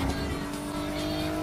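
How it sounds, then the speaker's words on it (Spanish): A car in the racing game NFS Heat under nitro boost, heard as a loud, steady engine roar with a sustained high whine, continuous throughout the short burst. "Voy a tirar un poquito el nitro"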